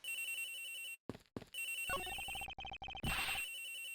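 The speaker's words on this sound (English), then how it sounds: "The ringing's coming from in here, sir." A cell phone rings from inside a locker in a video game, its electronic ringtone chiming in repeated bursts with short gaps, close and clear, with no talking.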